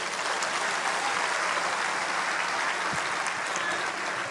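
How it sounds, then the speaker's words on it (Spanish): A church congregation applauds the Lord during a worship service, with steady, dense clapping from many hands filling the room evenly without a break. "Un aplauso al Señor."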